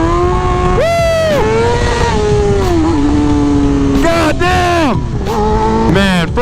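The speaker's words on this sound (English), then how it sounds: "First gear is all you need on a bike with stock gearing like this." A 2003 Kawasaki ZX6R motorcycle accelerating hard in first gear, loud and close, its engine note climbing in pitch several times with brief dips between pulls.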